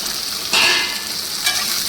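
Chopped ginger fries in a pan with a constant loud sizzle, while a spoon stirs it twice and the frying briefly flares louder each time, no voices.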